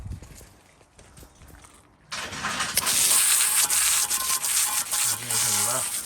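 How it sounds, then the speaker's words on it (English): After a quiet start, a wire wheel on a drill suddenly whirs into harsh abrasive scrubbing on a Willys CJ3A Jeep wheel, loud and close, continuing with varying pressure. "Better put the wire wheel on that drill."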